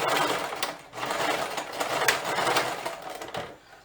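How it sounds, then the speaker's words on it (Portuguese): A sewing machine runs steadily while stitching a seam to close the bow on a child's flared dress, a dense close mechanical whir with brief dips in pace, no talking. "agora eu vou passar uma costura"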